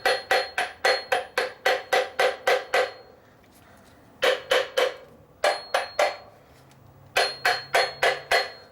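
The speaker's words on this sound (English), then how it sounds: "Give it a tap this way." A hammer or rubber mallet taps a water pump into place on a 1985 Ferrari Mondial QV, with quick bursts of seven or eight sharp, close knocks separated by short pauses.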